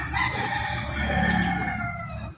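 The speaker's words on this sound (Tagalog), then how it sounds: "manok na panay ang tilao po" A rooster crows amid a busy, noisy farmyard background, its call blending with other fowl sounds rather than standing out cleanly.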